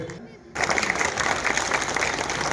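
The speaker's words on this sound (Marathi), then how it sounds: "जोरदार टाळ्या" Loud applause from a crowd at a Satara stage event, bursting in abruptly after a brief quiet lead-in and then holding as a dense, steady wash of clapping.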